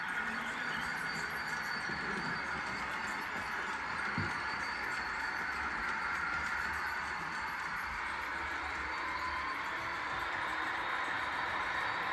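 Märklin H0 three-rail model train running with Swiss wagons on a layout, a steady continuous rolling rumble and whir of wheels on track throughout, with faint squeals and clicks, no voices.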